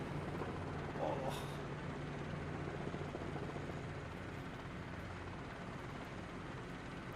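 Small, nimble helicopter in a VR flight simulator game, its engine and rotor giving a constant, even droning whir throughout, with a brief faint voice near the start.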